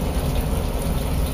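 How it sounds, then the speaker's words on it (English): Heavy rain pours down at Fort Sill, heard as a dense, steady hiss and patter close by, with no talk. "It is pouring rain."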